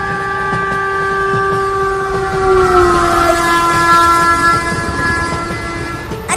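A cartoon train sounds a loud sustained multi-tone horn over the rumble and clatter of its wheels, the horn's pitch sliding slightly downward midway as it passes, close and dominant throughout.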